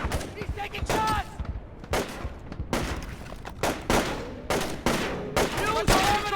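Video game gunfire in Splinter Cell: Chaos Theory, with repeated loud bursts of shots and booming impacts under continuous background noise and occasional faint voices.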